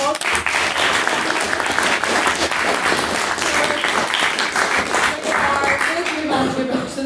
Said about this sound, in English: can we give Killian another round of applause?